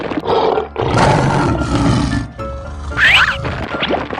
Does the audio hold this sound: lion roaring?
yes